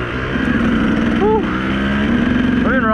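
A motorcycle that will not kick start drones on steadily while being ridden, its engine note close and continuous, with a brief voice-like warble over the top.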